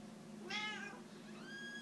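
A cat meows twice, a short rising call followed by a thinner drawn-out one, close by over a low steady hum.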